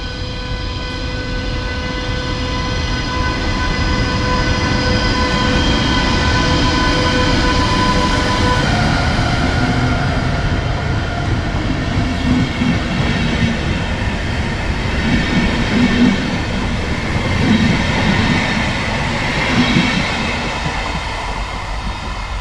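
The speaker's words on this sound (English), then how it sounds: "we can take a look at the departure of my train" A class 101 electric locomotive pulls the Maas-Wupper-Express out of a station, making a loud, continuous rumble with rising motor whine and steady rolling wheel noise close by.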